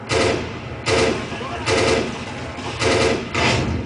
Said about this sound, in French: alors les explosions, c'est vraiment toute la richesse du jeu